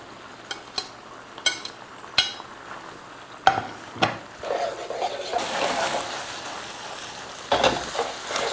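Noodles tossed into a bubbling pollock roe myeongnan sauce in a pan: sharp clinks and scrapes of utensils first, then a swelling sizzle and wet stirring, close and fairly loud, with no voices.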